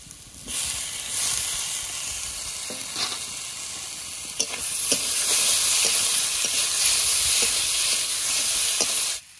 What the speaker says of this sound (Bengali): মশলাটা ভালো করে কষে নিয়েছি। এবার দিয়ে দেবো টমেটো কুচি।